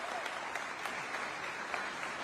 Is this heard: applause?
yes